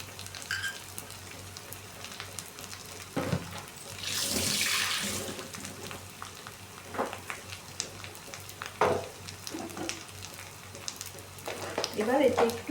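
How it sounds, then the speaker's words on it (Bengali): Potatoes and a spice mix frying in a pan for a Bengali egg devil snack give a steady, watery sizzle. It swells loudly for a moment near the middle, with scattered clinks and scrapes of stirring around it. "আলুটা ছেড়ে দিলাম, দিয়ে আমি যে মশলাটা বানিয়ে রেখেছিলাম সেই মশলাটা এর মধ্যে দিয়ে দিলাম।"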